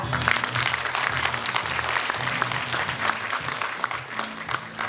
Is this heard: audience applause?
yes